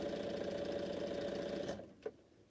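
Sewing machine stitching quilt blocks, a steady close mechanical whir that runs for under two seconds, then stops with a small click afterward.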